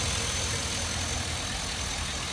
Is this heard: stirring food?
no